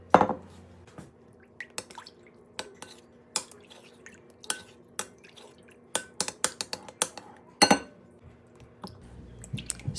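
Spoon clinking against a bowl while stirring water, salt and bubbly active sourdough starter together for pizza dough, giving scattered light taps and clinks with faint liquid sloshing at close range, no talking.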